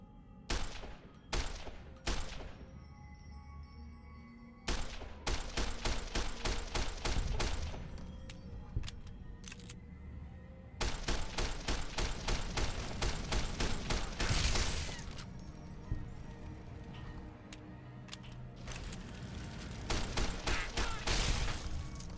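Service rifle fire in Fallout: New Vegas cracks out in rapid bursts of sharp shots, some volleys fast and dense, others single reports, with brief pauses between clusters, loud and close.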